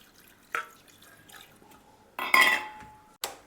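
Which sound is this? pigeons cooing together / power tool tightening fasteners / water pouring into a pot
water pouring into a pot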